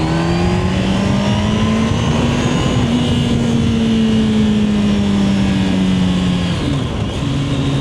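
A Kawasaki ZX-10R sport motorcycle engine roars loudly and continuously, its pitch rising and falling as it revs, with a brief dip like a gear change near the end.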